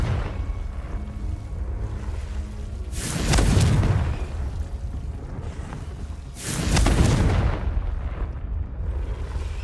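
Two booming blasts from the Confringo spell in Hogwarts Legacy, each a broad, heavy burst about three seconds apart, set against a steady rumbling game ambience with no talking.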